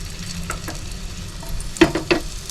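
Paneer fries in a little oil on a tawa with a soft, steady sizzle, then two sharper crackles or clinks near the end, and no talk.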